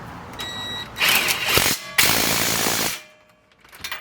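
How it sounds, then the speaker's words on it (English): Ratchet clicking as a brake caliper bolt is tightened on a Jeep JK during a brake pad and rotor job, with bursts of mechanical rattling and clatter, then a quieter stretch. "I can now bolt this back in place"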